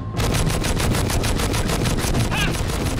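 Minigun fire in the video game Too Human, a loud, unbroken stream of rapid, evenly spaced shots that runs for the full stretch.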